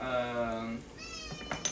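A cat meows in a kitchen, a clear drawn-out cry up close followed by a shorter second call, with faint clinks of kitchenware and a person talking nearby.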